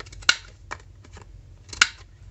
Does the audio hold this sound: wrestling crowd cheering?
no